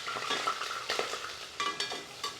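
Cashews, green chillies and whole spices frying in ghee for old-style ghee rice, a faint steady sizzle with repeated scraping stirs of a ladle in the pan.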